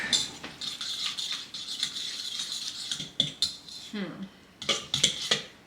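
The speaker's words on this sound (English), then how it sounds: "Just gonna whisk it with a fork." A fork whisks an egg in a bowl for pumpkin bread batter, giving quick rhythmic metallic clicks and scraping against the dish, close and fairly quiet, in uneven bursts with short pauses.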